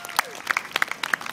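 A small audience claps in short, scattered bursts at an outdoor public poetry talk at Olympic Park, London, in 2012. The claps are uneven and fairly close, with no one talking over them.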